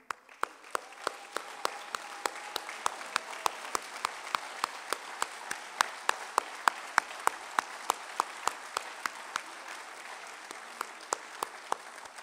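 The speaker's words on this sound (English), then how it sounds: "Please stand up and let's applaud them" At a university board of governors opening ceremony, a large audience applauds with a dense, steady roll of clapping, and a few sharper nearby claps cut through the wash throughout, continuing at an even level before thinning near the end.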